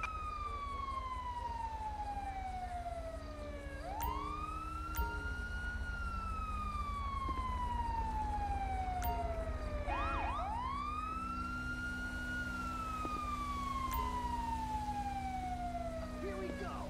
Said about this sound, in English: An ambulance, responding code 3.